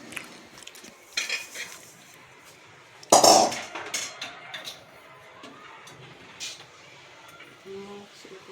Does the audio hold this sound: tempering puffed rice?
yes